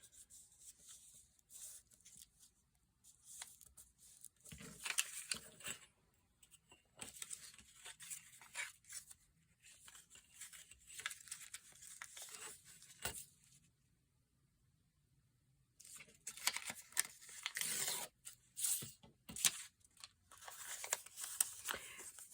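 Paper being cut by hand, faint close snipping and rustling in irregular bursts, with a quiet pause partway through before the cutting resumes.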